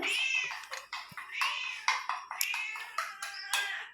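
A cat meows repeatedly and insistently at close range, a string of plaintive cries while fish is about to be cut in a home kitchen, with no talking.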